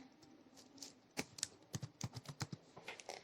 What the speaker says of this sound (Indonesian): Ini kita ketik jumlah.